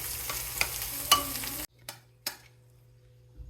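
A NY strip steak sizzles in a hot pan with stirring and scraping for a second and a half, then the sound cuts to quieter, intermittent spatters.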